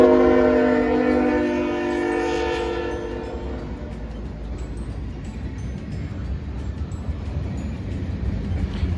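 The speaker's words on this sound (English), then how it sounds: "the gates were coming down and a train was coming by" A long cargo train rumbles past a level crossing at close range, its horn sounding loudly over the first few seconds before the steady roar of wagons continues alone.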